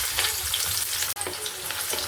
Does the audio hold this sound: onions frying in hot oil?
yes